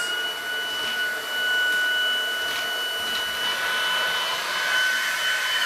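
A Dibea F20 Pro cordless vacuum cleaner runs with a steady high-pitched motor whine and airflow rush while sucking up debris, close and continuous, with small rattles of particles.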